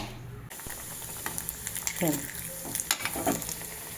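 Batter for a homemade snack drops into hot oil and fries with a crackling sizzle. A few sharp bursts and clinks of a utensil break in, and a voice is heard faintly underneath.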